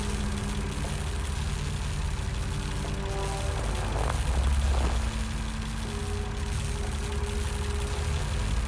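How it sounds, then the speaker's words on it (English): Diesel generators drone steadily inside a shed in the game Lost Horizon, a continuous low engine hum with a brief mechanical rattle partway through. "Judging by the engine noise and the smell, there are diesel generators in this shed."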